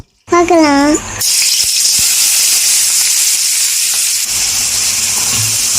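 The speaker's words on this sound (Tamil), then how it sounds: "ஒரு கடாயில் நல்லா எண்ணெய் ஊற்றி நல்லா வெங்காயம் போட்டு கொஞ்சம் உப்பு போட்டுக்கலாம்" Onion and a little salt drop into hot oil in a kadai for egg noodles and set off a loud, steady, close hiss of frying. A brief voice is heard just before.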